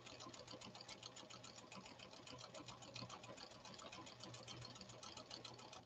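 A Pfaff Creative 1471 sewing machine with a snap-on presser foot runs steadily in a fast, even stitching rhythm, close and continuous without pause, its motor hum constant underneath the rapid needle chatter.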